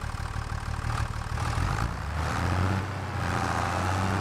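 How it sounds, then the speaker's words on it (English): A vehicle engine idles steadily in Farming Simulator 25, a continuous low rumble that holds at an even level throughout with no talking over it. "Listen to that engine though"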